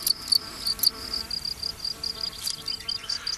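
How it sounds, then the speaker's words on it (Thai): Crickets rub their wings together in a European summer setting, producing rapid, evenly spaced high chirps that repeat close by over quiet background rustle. "เวลาจิ้งหรีดสองตัวถูปีกเข้าด้วยกันจะเกิดเสียงเฉพาะตัว"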